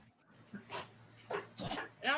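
Dogs yip, bark and whimper off and on at moderate distance during a live stream, mixed in with background talk.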